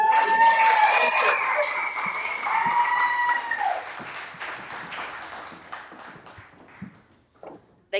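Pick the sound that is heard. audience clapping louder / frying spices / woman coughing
audience clapping louder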